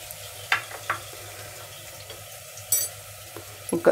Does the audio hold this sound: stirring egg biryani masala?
yes